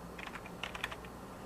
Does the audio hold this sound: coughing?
no